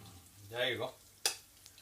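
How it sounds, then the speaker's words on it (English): Onion and vegetable pakoras frying in a vessel of hot oil, a soft bubbling sizzle that swells briefly, followed by a sharp clink or splash as another piece goes in; quiet overall with no talking. "How many pakoras you fry at one time depends on the size of your vessel."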